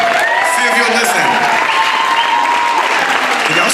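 A school talent showcase audience keeps up loud, continuous clapping with some cheering and crowd noise, while voices are heard over the applause throughout.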